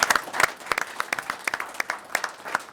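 Sparse applause from a small symposium audience, a handful of separate claps landing in an uneven rhythm, fairly close and moderately loud, with no talking over it.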